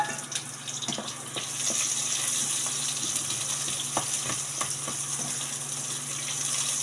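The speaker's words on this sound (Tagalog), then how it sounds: "ilagay na natin ang sibuyas" Onions go into a pan to fry for a home-style beef steak, giving a steady, close sizzle with scattered crackles and faint utensil taps throughout, no voices.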